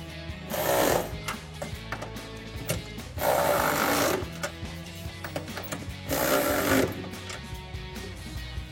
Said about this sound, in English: we'll grab a 13 millimeter socket to tighten down all of our nuts